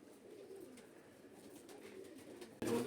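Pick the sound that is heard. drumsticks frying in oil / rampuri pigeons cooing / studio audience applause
rampuri pigeons cooing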